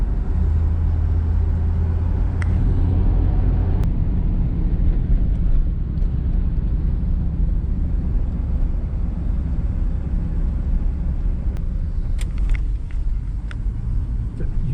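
A 1973 Monte Carlo on its first drive with a new wheel setup, its steady low engine and road rumble droning continuously from inside the cabin, with a few faint clicks and knocks over the top.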